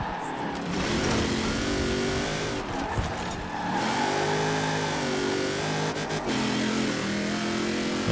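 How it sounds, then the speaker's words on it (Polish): A Subaru takes a corner in Forza Horizon 4, its engine droning and shifting pitch through the turn with faint tire noise, steady and fairly loud under game sounds. "Zobaczcie jak Subaru bierze zakręt."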